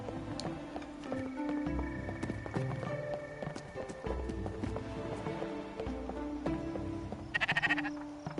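A video game sheep bleats amid trotting clip-clop footsteps and layered background music, with a short bright burst of effects near the end; the calls sit mid-level in a cluttered mix.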